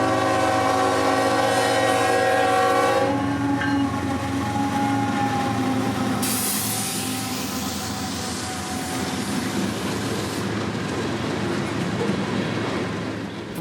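Southbound freight train B241, hauling a long load of Tampa-bound potash, sounds its horn with loud sustained blasts, then rolls past with a rumbling, rattling clatter of cars that stays loud and steady.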